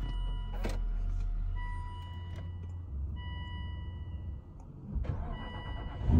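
A 4.7-liter V8 car engine cranks and fires up nearby, settling into a low idle rumble, with brief mechanical clicks and a later surge in engine level.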